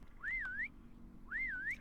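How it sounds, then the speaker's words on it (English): Whistle item in Minecraft's Stoneblock 3 modpack, two clear rising-and-falling wavering whistle tones, each about half a second, heard alone and fairly quiet. "Oh, I forgot about the whistle."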